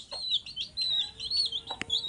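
Broiler chicken chicks peeping with thin, high-pitched cheeps in quick irregular bursts, fairly close and lively, with no talk.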